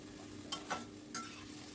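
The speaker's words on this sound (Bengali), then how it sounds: "এইবারে আমি দিয়ে দিচ্ছি ভেজে রাখা আলুটা, দিয়ে আবারও সব কিছু ভালো করে মিশিয়ে নিচ্ছি।" Fried potatoes being stirred into a spice masala in a pan, a soft bed of sizzle broken by a few brief scraping strokes of a spatula, close and quiet.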